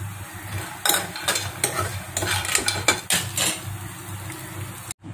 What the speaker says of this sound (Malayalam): ഞാനിത് അണ്ടിപ്പരിപ്പ് മുന്തിരിയും വറുക്കാൻ വേണ്ടിയിട്ട് 2 സ്പൂൺ നെയ്യ് ഒഴിച്ച് കൊടുത്തിട്ടുണ്ട്